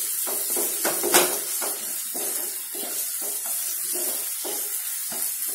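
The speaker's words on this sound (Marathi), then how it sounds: "आता आलं लसूण पण छान आपण परतून घेऊया." Ginger and garlic sautéing in a pan for a kantola vegetable dish, a soft continuous sizzle with repeated scraping stirs at a steady rhythm, close and moderately quiet.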